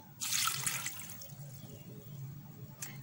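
Water is poured into a glass, a single short splashy burst near the start, then a quieter steady trickle under room noise.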